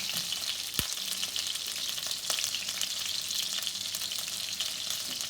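Chicken pieces sear in a hot frying pan for a chicken parmigiana, a steady bright sizzle running throughout with one brief sharp clink near the start.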